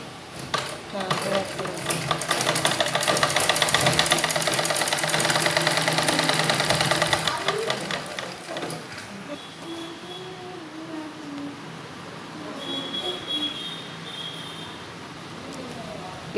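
A sewing machine stitches a suit, running with a steady, close, rattling whir for about six seconds before it stops. Quieter sounds and what may be a voice follow.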